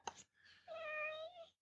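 A cat gives a single drawn-out meow, close and fairly quiet, after a brief short sound at the start.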